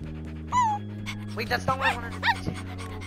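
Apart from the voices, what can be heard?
wolf dog panting in Minecraft: Story Mode video game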